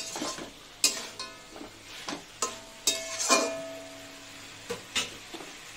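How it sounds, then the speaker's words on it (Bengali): A drumstick curry masala with poppy seeds is stirred and sautéed in a pan: a soft sizzle runs under intermittent, sharp clinks and scrapes of the spoon against the pan. "আর একটু কষিয়ে নিই।"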